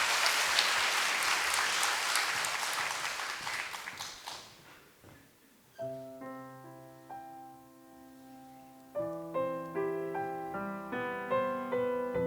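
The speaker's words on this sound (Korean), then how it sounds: "우리 찬양 하실 텐데 우리 박수 한번 합니다" A church congregation claps for a singer at a Sunday worship service, dense applause filling the hall for several seconds before fading out, followed by sustained piano-like chords that take over alone.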